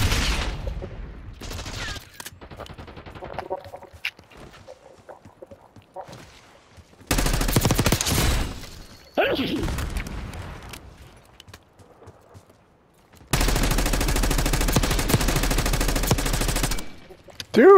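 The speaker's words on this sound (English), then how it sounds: "Dude, I just dumped an entire mag at you, man." Loud gunfire in Call of Duty Black Ops 6 free-for-all, with several long bursts as whole magazines are emptied, separated by quieter stretches with faint game noise.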